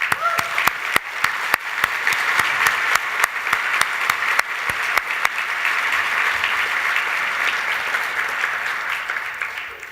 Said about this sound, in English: I think actually an applause for her efforts